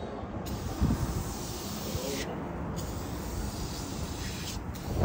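Aerosol cleaner spraying onto a severely corroded battery of a Harley-Davidson three-wheeler, a steady, close hiss that runs continuously with brief pauses, mixed with outdoor wind noise.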